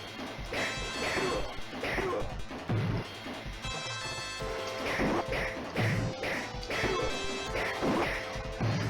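Sword attacks hitting enemies in the Final Fight arcade game, a dense, loud run of repeated slashing smacks and crashing hits over continuous game music and effects with no pause.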